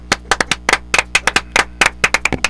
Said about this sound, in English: so now you can applaud and we can hear your applause.